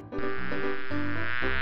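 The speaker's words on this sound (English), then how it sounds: "Oh, there are too many bees here." A swarm of bees buzzes loudly and close, a dense continuous droning hum with shifting pitch layers throughout.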